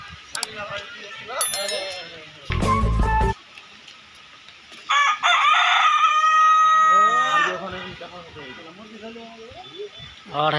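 A black rooster crows several times in a park inside a residential block, its drawn-out calls loud and close, with clucking and other bird calls around and a sharp clatter partway through.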